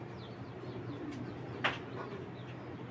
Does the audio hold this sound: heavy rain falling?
no